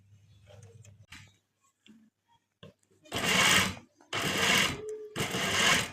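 Sewing machine stitching a neck design on a garment, running in three loud bursts after a quiet stretch of small handling clicks and faint speech.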